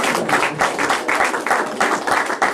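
A crowd at a community Garvey Day celebration claps for a speaker, loud close handclaps in uneven bursts throughout the short stretch.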